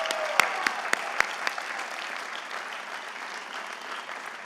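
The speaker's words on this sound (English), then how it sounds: "Let's give our track and field teams a little round of applause." Applause from a commencement ceremony crowd for the college track and field teams, a few sharp close claps over steady distant clapping that gradually fades.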